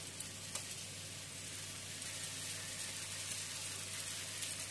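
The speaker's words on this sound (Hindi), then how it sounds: "और जिंजर गार्लिक पेस्ट को भी हम 3 सेकेंड के लिए फ्राई करेंगे" Three teaspoons of ginger garlic paste sizzle in a pan with onions already fried golden, giving a steady, even crackling hiss throughout with no voices.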